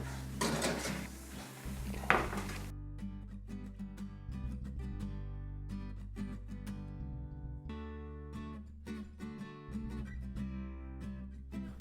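Roast potatoes are turned in a metal pan, with a loud scraping clatter at the start and then repeated light clinks and taps of utensil against pan, close by.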